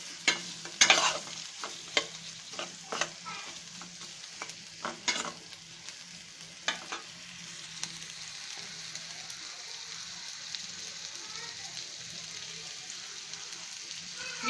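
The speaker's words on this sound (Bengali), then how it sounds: "একটু ভেজে নেব।" Three green chillies fry in hot oil, a steady hissing sizzle with a burst of quick spatula taps and scrapes early on that thins to an even fry, close and moderately quiet, with nobody speaking.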